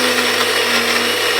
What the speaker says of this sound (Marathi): दळून घेऊया मिक्सरला